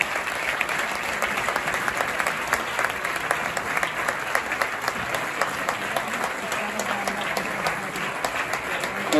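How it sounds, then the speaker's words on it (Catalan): Sustained applause from a concert audience at a music school performance by an orchestra and gospel choir, a dense, steady wash of many hands clapping continuously throughout, fairly loud and close. "És que volen l'aplaudiment, el vostre."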